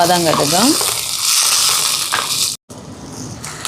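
Curry leaves and small shallots sizzle loudly in a hot pan for a Jaffna-style chicken puttu kottu, a steady hiss that continues throughout, broken briefly by a short gap near the end.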